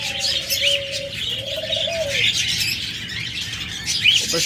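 Male pet cage bird, a lovebird, cockatiel or budgerigar, calling in a bird sale setting: a few clear whistled notes followed by scattered high chirps, fairly close and alone.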